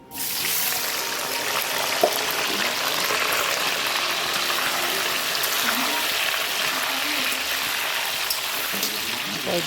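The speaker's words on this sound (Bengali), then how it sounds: "তেলটা গরম হয়ে গেছে পনিরগুলো হালকা করে একটু ভেজে নেবো" Paneer pieces sizzle in hot oil, giving a steady, dense crackling hiss that stays close and even throughout with only small pops scattered through it.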